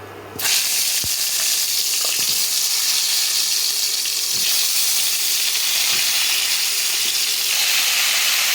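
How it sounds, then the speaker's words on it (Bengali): Two dried red chillies fry in hot oil, giving a loud, steady sizzle that starts abruptly after a brief quiet moment and continues close up with a few soft clicks. "তেলের মধ্যে দুটো শুকনো লঙ্কা একটা ছেড়ে দিলাম"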